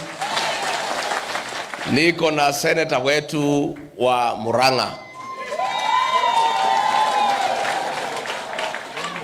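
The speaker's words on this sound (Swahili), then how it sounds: "Mpigieni makofi" Applause and cheering from a church congregation at PCEA Mwiki in Kasarani, Nairobi, swelling after a man's amplified speech and holding steady as a broad, fairly loud wash of clapping that carries to the end.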